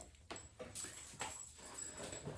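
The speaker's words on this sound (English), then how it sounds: "We've got my dog today, so he's hanging out with us, doing his thing." A dog whimpers and yips quietly in short, scattered bursts over a low background in a garage where motorcycle spark plug maintenance on a Harley V-Rod is under way.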